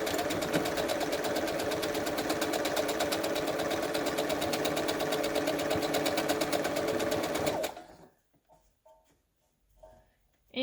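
Sewing machine stitching a stretchy crochet tutu top, a dense rapid mechanical chatter running steady and close for several seconds, then stopping abruptly, leaving near silence with a few faint handling sounds.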